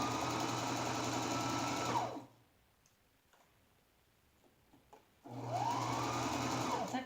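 A sewing machine stitches the corner of a toss pillow in two steady, close runs of motor whir and needle ticking, separated by a quiet pause with small handling clicks.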